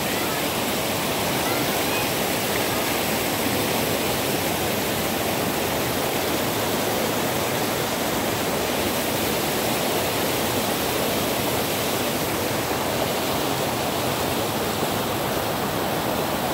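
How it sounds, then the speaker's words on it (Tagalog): A loud, constant roar of rushing water from a strong river current in Candis, Rizal, Palawan, Philippines, churning nearby, unbroken for the whole stretch. "napakalakas ng agos"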